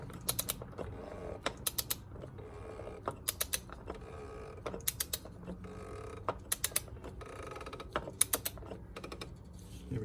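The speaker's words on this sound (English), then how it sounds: "Just do everything now with the torque wrench." Torque wrench ratcheting as a BMW M2 LCI N55 oil filter housing is tightened; repeated quick clusters of dry clicks, close and fairly quiet, with short pauses between strokes.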